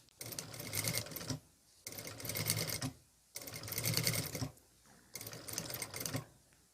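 Sewing machine stitching bias binding onto a quilted vest, running in four steady bursts of rapid mechanical stitching separated by short pauses, close and clear with no talk.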